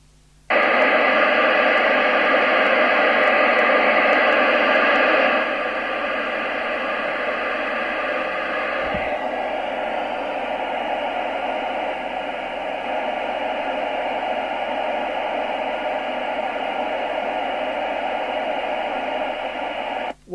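A Thunderpole T800 CE CB radio, 2023 model, picks up loud, steady broadband static from its aerial, a continuous hiss lasting the whole stretch with a slight drop in level after the first few seconds and no voices.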